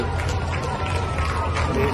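Applause and crowd noise greeting the arrival of Eduardo dos Santos, a dense, steady wash of many hands and voices that holds at an even level for the whole stretch.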